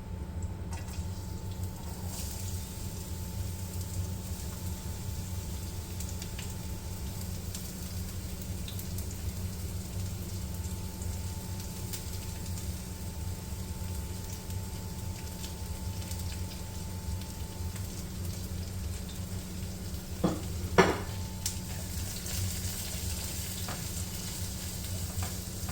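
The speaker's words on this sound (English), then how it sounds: "the garlic, ginger, and onions, I've been cooking for about 2 minutes now" Garlic, ginger and onions fry in coconut oil with a steady, moderate sizzle that holds throughout, with a brief clatter near the end.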